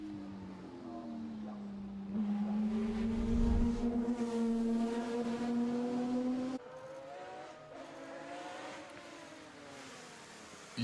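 The engine of a Jaguar XJR12 Le Mans race car at the Goodwood hillclimb drones loudly and steadily as it passes, its pitch rising and falling through gear changes with no talk over it.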